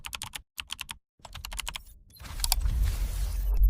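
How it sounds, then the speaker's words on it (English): Keys clatter on a computer keyboard in quick bursts of clicks with short pauses between, then a louder low rumble rises beneath the tapping toward the end. "Typing the script for your total capital drain."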